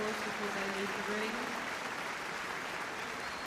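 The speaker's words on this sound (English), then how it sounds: "a very warm round of applause before they leave" At the Crufts 2024 dog show during hound group judging, an arena audience applauds in a steady, distant wash of clapping, with a voice briefly audible at the start.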